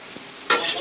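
Ingredients dropping into hot oil for pasta with Maggi masala, a sudden loud burst of sizzling after a brief quiet moment, heard up close.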